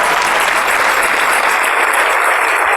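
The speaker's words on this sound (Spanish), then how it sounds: "Denle un aplauso al Rey" A church congregation breaks into loud, sustained applause during a worship service, a dense unbroken wash of clapping with no voices standing out.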